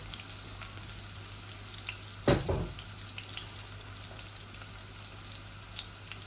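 Koi fish fry in a small amount of oil, a steady hiss of sizzling throughout with one brief louder burst of spattering and stirring near the start, then the even frying continues alone.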